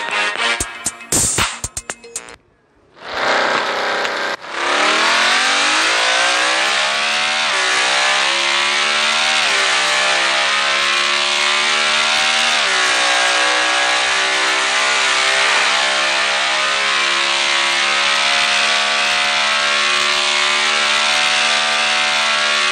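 A motorbike engine in endless mode of the mobile game Traffic Rider starts after a few scattered clicks and a brief pause, then drones loud and continuous, rising in pitch as it accelerates and shifting through gears.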